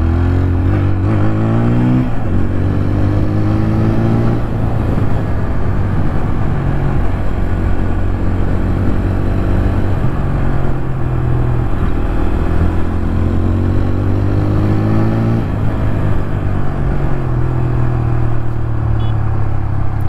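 A 2025 TVS Apache RTR 160 4V motorcycle rides along a road, its engine droning loud and close in a steady note that rises and dips as the throttle changes, with a rough rumble underneath throughout.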